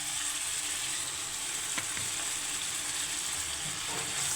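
Liver sizzles in homemade butter in a pan, a steady close frying hiss with a few faint stirring clicks, no voices.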